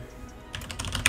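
A password is typed on a computer keyboard during a Linux install on a first-generation Apple TV: a short quick run of light key clicks following a brief quiet moment, close and clear.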